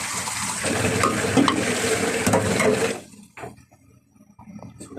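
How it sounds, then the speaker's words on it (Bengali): Water poured into a hot pan of frying potatoes makes a loud, rushing hiss for about three seconds, then drops away to a quiet simmer with faint clinks. "একটু পানি দিয়ে দিতেছি"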